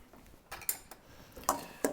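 Celeriac and apple salad dressed with vinegar and olive oil is tossed in a bowl, giving a few sharp, quiet clinks and taps of utensils against the dish, irregularly spaced with no talking.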